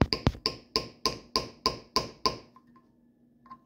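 A hammer repeatedly striking a bearing removal tool packed with bread, about ten sharp, evenly spaced metallic blows, loud and close, then stopping with faint taps afterward.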